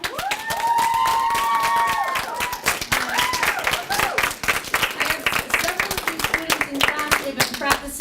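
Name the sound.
audience applause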